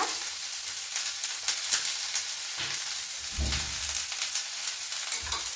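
Cumin, black pepper and kasuri methi fry in a hot pan, giving a steady close sizzle and crackle with occasional scraping stir sounds and no speech.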